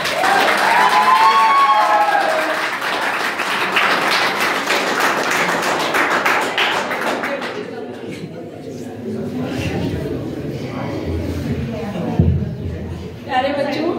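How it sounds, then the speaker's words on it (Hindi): An audience at a school farewell ceremony claps for a teacher, loud dense applause for about seven seconds that then thins to scattered claps and thumps under background talk. "अरे ताली जोर से बजाओ रे"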